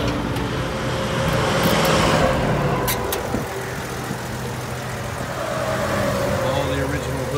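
A 1951 Frazer Vagabond sedan with a 6-volt system runs its engine, a steady low rumble close by, while someone talks over it.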